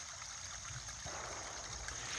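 Water trickling and gurgling down into an outdoor koi and goldfish pond, a steady close stream-like flow that grows slightly fuller partway through, with no voices.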